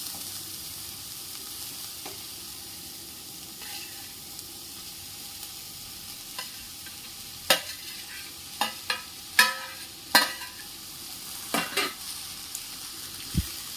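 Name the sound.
peas and roasted fresh turmeric being roasted and stirred in pan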